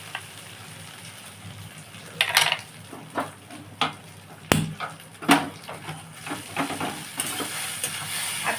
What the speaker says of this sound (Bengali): আচ্ছা, আমি এটা নাড়বো।